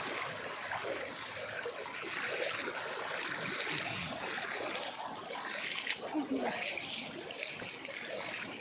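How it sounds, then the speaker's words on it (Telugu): A continuous loud rush of flood water pours from a big drain into a house, steady and close, with faint voices now and then beneath it. "పెద్ద కాల నుండి ఇంట్లోకి వచ్చినాయి కానీ ఘోరంగా వస్తున్నాయి కదా నీళ్ళు"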